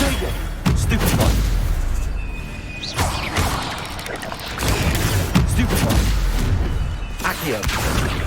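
Spell-casting effects from the Hogwarts Legacy video game: a series of sharp bursts and blasts at about 0.7, 3 and 4.6 seconds, each followed by rumbling and sparkling swishes, playing loud with a voice briefly heard over the action.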